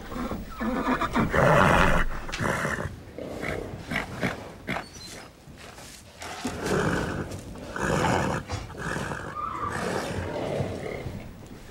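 A mare neighs and whinnies loudly several times during a veterinary visit, with repeated harsh, strained calls and short breaths between them, close by and with no talk over the calls.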